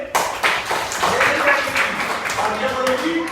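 Children in a library classroom clap their hands for a girl, a quick burst of applause-like claps with an adult voice and chatter over it.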